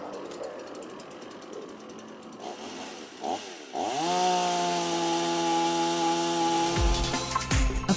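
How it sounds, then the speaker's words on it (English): Speed Sharp Star chain grinder sharpening chainsaw chain cutters: after a few seconds of softer mechanical noise, a loud, steady whining grind holds at close range, ending with a few knocks. "the Speed Sharp Star grinders ensure much more accurate grinding of cutters of any kind of chain"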